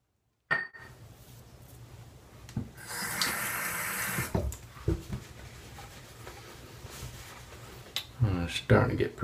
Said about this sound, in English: I rinse off in the sink